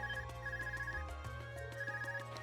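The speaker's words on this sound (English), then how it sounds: "Is that your Arcus ringing?" An Arcus communicator rings in the Trails of Cold Steel video game, a steady electronic ringtone with repeating melodic beeps over a sustained low tone, clear and continuous with no talking.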